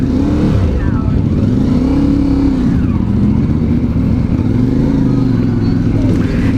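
A CFMoto 450MT adventure motorcycle is ridden off-road. Its engine rises and falls in repeated loud, close acceleration surges while the rider's voice carries over it.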